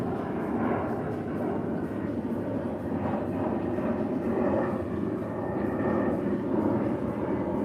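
A jet takes off from Mykonos airport across the island, its engine roar a steady, distant rumble that swells slightly over several seconds in the Greek evening air.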